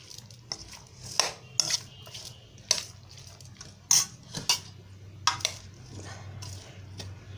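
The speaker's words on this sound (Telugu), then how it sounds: "ఇప్పుడు ఈ మిశ్రమాన్ని బాగా కలిపి" Mutton curry mixture with turmeric and salt being stirred in a pot, a series of sharp metallic scrapes and clinks of a spoon against the vessel, irregular and close, with quiet gaps between.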